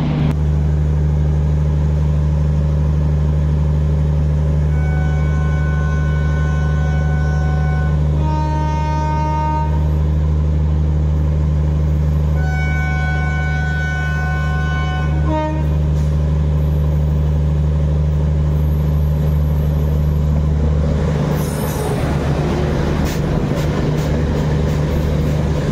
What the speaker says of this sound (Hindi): और अभी आ रही है न्यू दिल्ली दरभंगा बिहार संपर्क क्रांति एक्सप्रेस।